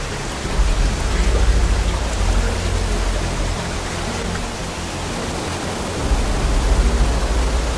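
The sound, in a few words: waterfall in Hawaiian jungle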